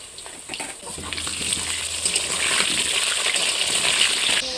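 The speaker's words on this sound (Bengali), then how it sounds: "এবার আলু ছেড়ে দেবো। সামান্য একটু লবণ দিচ্ছি, যাতে হচ্ছে আলুটার মানে ছিটকে না আসে গায়ে তেলটা।" Potatoes frying in hot oil with a pinch of salt, a steady broadband sizzle that builds after the first second and holds loud and close for the rest, with no talking.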